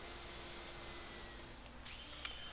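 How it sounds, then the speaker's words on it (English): A power drill boring through pilot holes in wooden beehive panels, a steady high whine holding throughout with a brief change near the end. "I drill through the pilot holes on both the top and bottom panels."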